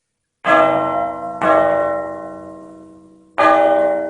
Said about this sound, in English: that bell sound is what you're getting